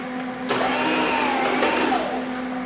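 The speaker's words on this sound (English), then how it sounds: "We're going to place it on our meat slicer." A meat slicer cuts beef for homemade jerky, slices about 1/4 to 1/8 inch thick: a steady motor hum, then a louder broad whirring rasp as the blade passes through the meat, close and continuous with no talk.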